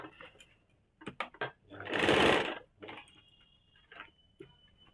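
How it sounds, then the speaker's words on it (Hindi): A sewing machine stitches the side seam of a kaftan nightie in short bursts, with one longer whirring run in the middle and quick clicks of the mechanism around it, close up. "अब सबसे पहले साइड वाला को सिल लेंगे।"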